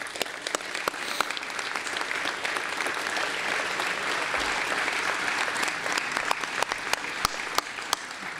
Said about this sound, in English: So if you guys could please stand and please give them a round of applause.